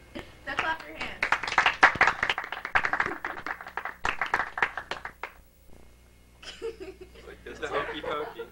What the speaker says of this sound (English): Now clap your hands.